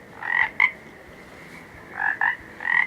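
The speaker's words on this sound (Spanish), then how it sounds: "¿Alguna vez ustedes ya escucharon el canto de los sapos?" Toads call in short, raspy croaking bursts, a few pulses at a time with pauses between, close and fairly clear over a quiet background.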